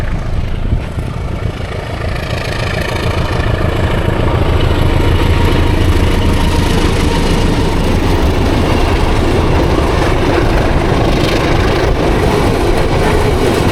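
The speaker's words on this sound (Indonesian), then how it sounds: "Itu kereta Prambanan Express yang baru." A Prambanan Express passenger train rolls past close by, a steady loud rumble of wheels and cars that continues without a break.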